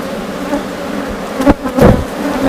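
Honeybees drone steadily at an open hive in a colony that had gone queenless, a dense, close buzzing with a couple of soft knocks from the hive boxes.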